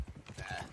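Horse hooves clip-clop in a quick, even rhythm in the video game Red Dead Redemption 2, soft and short, with a faint tonal layer of game sound above.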